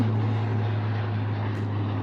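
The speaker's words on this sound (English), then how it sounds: "How many times is that plane gonna fly over my head?" A propeller airplane drones steadily overhead for the whole stretch, a loud, continuous engine hum with a strong low tone and no talk over it.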